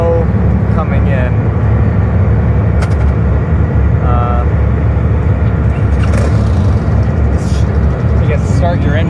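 The engine of a car ferry rumbles loudly and continuously right below the deck, a heavy low drone that fills the space while people talk over it.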